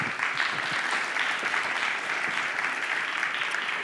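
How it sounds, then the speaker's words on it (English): An audience at a security conference applauds a speaker being called to the stage. The clapping is dense and even and holds steady, with no talk over it. "Applause."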